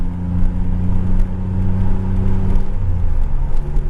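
A DeLorean engine hums and revs loudly and steadily, close by, with no talking.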